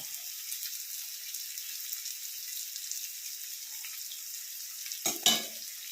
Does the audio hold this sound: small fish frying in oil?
yes